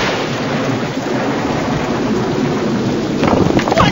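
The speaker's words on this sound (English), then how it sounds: "looks like rain" Rain pours steadily in the Scooby-Doo Mayan Monster Mayhem video game, with a rumble of thunder building under the downpour near the end.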